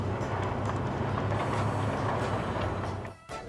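A passenger train rolls steadily on its rails, heard from inside a carriage as a continuous broadband rumble with faint rhythmic clatter, dropping off sharply near the end.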